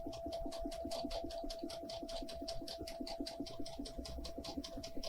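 A Brother sewing machine stitches a seam at a fast, even rhythm, its needle clatter steady over a motor hum for about five seconds, with no voices.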